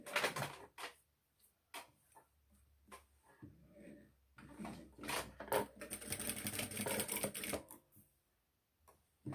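Sewing machine running a line of stitching along the edge of a border fabric on a diaper, in short bursts of rapid mechanical chatter separated by pauses, close and fairly quiet.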